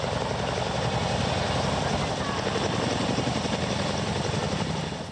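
Helicopters working a wildfire near Oostrum fill the air with a loud, continuous rotor thrum and engine roar that holds steady before easing slightly at the end, with voices faintly beneath.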